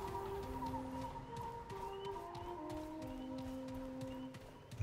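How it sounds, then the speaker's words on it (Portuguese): A bird in the video game Remnant 2, heard as several sustained tonal calls that slide between pitches, fairly faint over a steady ambient forest bed, with no talking. "Olha lá o passarinho."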